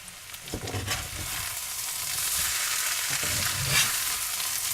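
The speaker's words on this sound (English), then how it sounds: "I'm going to add my diced steak, throw it all over the stove" Diced steak fries in a skillet on a stove, giving a loud, close, continuous sizzle with bursts of crackling and a few soft knocks as the meat is moved around.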